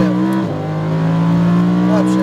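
A Lamborghini Huracan at full throttle on a race track, its engine holding a loud, steady high drone with a brief dip midway, close up and continuous, with a voice talking over it.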